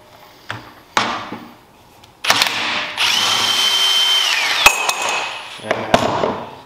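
Power tool undoing a 12 mm bolt at the bottom of a Harley-Davidson front fork during an Öhlins suspension install: short bursts early, then a loud sustained whir of about two seconds, with sharp clanks around it.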